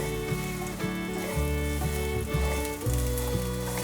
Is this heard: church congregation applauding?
no